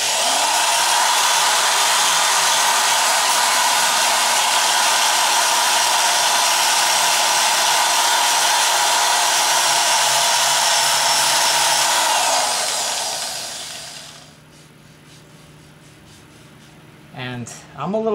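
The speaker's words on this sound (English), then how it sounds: "I'm gonna continue with the power sander." A power sander works over a woodturning as a loud, steady whirring drone that winds down near the end, followed by faint handling sounds and a voice.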